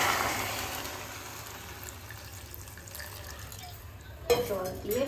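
Water runs into a cooking pot as a soft, continuous pour, followed near the end by a louder clank and splash of the pot being handled. Faint background sounds accompany it.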